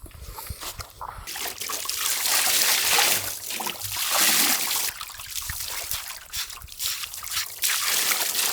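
Water poured over a freshly cut bluefin tuna, roughly 100 kg, outdoors: a continuous splashing trickle with sloshing surges, fairly close and steady throughout, with no talk over it.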